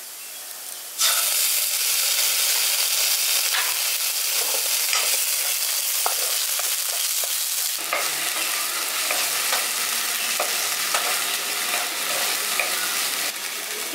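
Ginger garlic paste sizzles loudly with soya keema in a pan for a village-style soya keema masala, a steady hiss bursting in after a second with scattered stirring scrapes and no talk.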